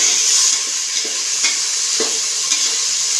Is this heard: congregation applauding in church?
no